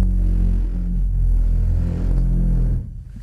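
A Mercedes car engine at Brooklands drifting through a turn, a loud low steady rumble and drone with throttle feathered on and off, dropping away sharply near the end.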